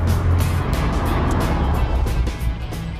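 A 1980s DeLorean with its 2.8-litre V6 drives close by, giving a loud, steady engine roar with a deep low growl that holds for about three seconds and eases slightly near the end.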